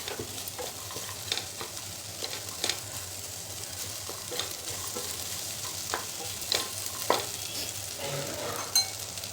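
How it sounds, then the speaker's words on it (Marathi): Okra and turmeric are stirred into a hot frying pan for a no-onion, no-garlic Marathi dish, a soft steady sizzle punctuated by intermittent spatula scrapes and clacks. "थोडीशी हळद घालायची आणि आता ही भेंडी घालायची मिक्स करून घ्यायचे"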